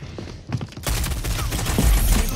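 Gunfire in a video game gives a dense, continuous crackle of rapid shots that swells abruptly after a brief quieter moment with scattered pops.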